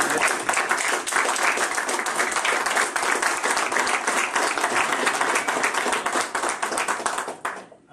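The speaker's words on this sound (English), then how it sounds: "I'd just like you to just clap and applaud the wonderful achievements of KEF." An audience at a KEF 50th anniversary event claps in sustained, dense applause for several seconds before it tapers off.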